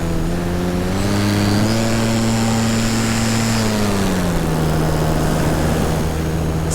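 An electric paramotor flies a loud pass overhead, its propeller giving a steady droning whine that drops in pitch as it goes by and then recedes.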